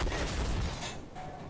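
A heavy, booming shot from a 2S3 Akatsiya self-propelled howitzer in the game Armored Warfare, with a broad rumbling blast that lingers and fades, with no voices.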